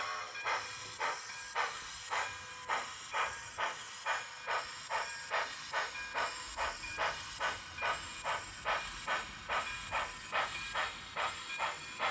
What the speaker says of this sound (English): I got a little fleet of Bachmann Spectrum small steam 3440s and the 460 on the back.